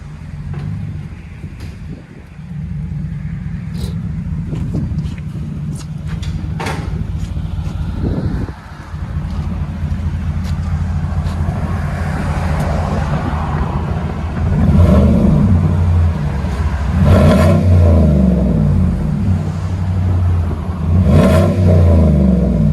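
A 2014 GMC Sierra 5.3L V8 with Black Widow dual exhaust revs hard outdoors, its loud deep roar swelling and falling over repeated throttle blips with brief dips between, heard close to the pipes with some wind noise.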